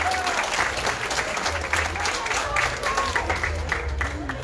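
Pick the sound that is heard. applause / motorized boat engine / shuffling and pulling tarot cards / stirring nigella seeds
applause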